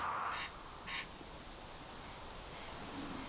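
A corncrake in Hebridean machair grassland gives two short, rasping calls close together, fairly faint against a soft outdoor background hiss.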